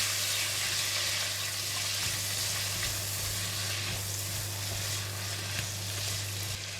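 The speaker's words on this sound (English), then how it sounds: "Now in the pan we have this oil and nice prawns flavor here, and I'm putting in the vegetable. Put in the stem first." Choy sum stems stir-frying in a hot pan of prawn-flavoured oil, a steady loud sizzle with light stirring scrapes throughout, no talking.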